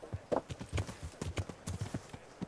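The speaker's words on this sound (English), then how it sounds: "So that is his horse." Horse hooves clip-clopping in Kingdom Come: Deliverance, a steady quick rhythm of close, soft thuds at a trot, heard on its own at moderate volume.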